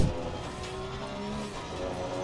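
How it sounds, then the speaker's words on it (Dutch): A Porsche six-cylinder boxer race car engine in the Assetto Corsa Competizione racing game drones steadily at sustained revs, loud and continuous with a faint rising tone and no talk. "het is wel een soort Porsche geluid"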